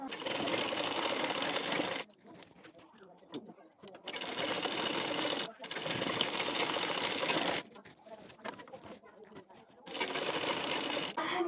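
A sewing machine stitches the shoulder seam of a size 40 blouse: three long, steady runs of rapid close-up whirring and needle chatter, separated by quieter pauses with handling noise and a voice.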